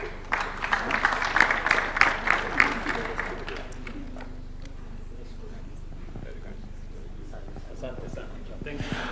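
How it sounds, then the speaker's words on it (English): Applause from an audience at a Kenyan presidential national vision event, a burst of clapping in the first few seconds that fades out, leaving a quiet hall. "Give them a round of applause"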